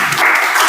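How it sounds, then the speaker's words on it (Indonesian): A group of people, a classroom audience, bursts into brief, dense hand clapping, a short steady patter of applause with no pause. "Oke, tepuk tangan."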